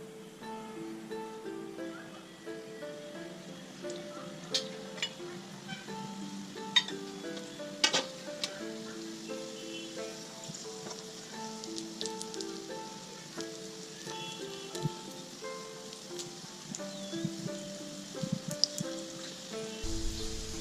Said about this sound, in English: We're going to fry this gyoza for about 3 minutes until the bottom gets a little crusty